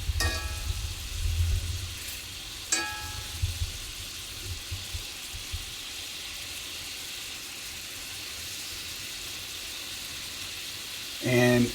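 Venison tenderloin steaks frying in a skillet, giving a steady, soft sizzle that carries throughout, with a few sharp clinks of a utensil against the pan near the start and at the end.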